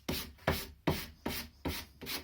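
Sandpaper rubs against a wooden board-game box in five or six long, even strokes, each a loud, close, rasping swipe followed by a brief pause.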